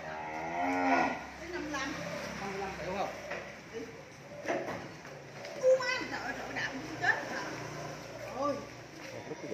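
Cattle at a cattle farm in Mỏ Cày Bắc, Vietnam, moo repeatedly under a person talking throughout, with farmyard noise in the background.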